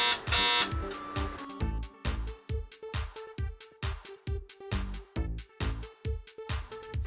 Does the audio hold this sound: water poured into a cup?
no